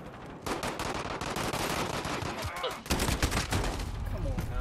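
Rapid automatic gunfire from Call of Duty: Modern Warfare, loud dense bursts of shots one after another with brief gaps, with voices talking faintly underneath.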